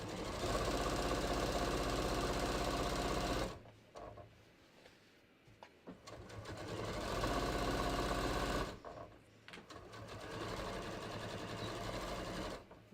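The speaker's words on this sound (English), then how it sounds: "this is the Memorycraft 67P, having the built-in walking foot with the straight stitch is really, really nice" A Memorycraft 67P sewing machine with a built-in walking foot straight-stitches jeans in two long, loud, steady runs separated by a quieter pause, running close and alone.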